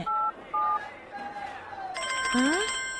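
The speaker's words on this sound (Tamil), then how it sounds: "மச்சான் போன் அடிக்குதுங்க" A telephone sounds with two short electronic tones, then a bright warbling ring that rises under a nearby voice, loud and close.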